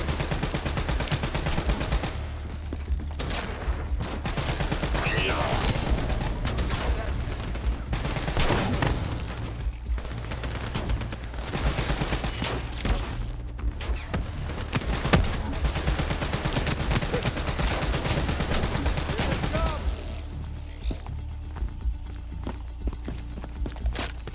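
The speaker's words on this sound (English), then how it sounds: "We're under fire" Gunfire in the video game Call of Duty: Black Ops III: rapid, dense volleys of shots rattle on almost continuously for over twenty seconds, loud and close, easing off briefly near the end.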